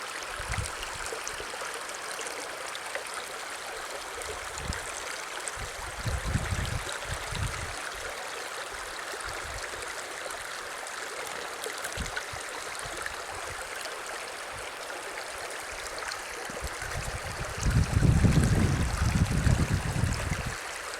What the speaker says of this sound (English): the water's making some pretty sounds, isn't it?